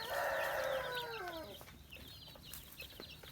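A chick chirps loudly in a rapid burst of high, descending peeps, followed by softer scattered cheeps and clucks.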